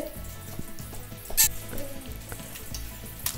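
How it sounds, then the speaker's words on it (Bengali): Chicken nuggets frying in hot oil at home make a steady crackling sizzle with faint stirring, under a low rhythmic background and one brief bright clatter. "ওটা ভাজা বসিয়ে এসে তিশানকে খাইয়ে দিচ্ছি।"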